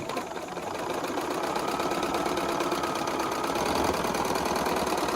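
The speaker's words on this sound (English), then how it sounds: "I'm going to sew 10 sets of these together" A sewing machine stitching quilt pieces together at a long stitch length, running continuously with a rapid, even mechanical whir close up.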